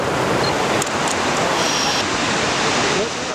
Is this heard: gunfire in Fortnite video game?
no